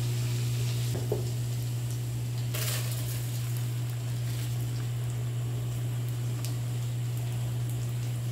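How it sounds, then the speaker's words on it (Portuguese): Steady frying sizzle of garlic in lard in a pan, a constant crackling hiss with a low steady hum underneath, no talking. "Aí eu vou deixar dar uma fritada aqui nesse alho"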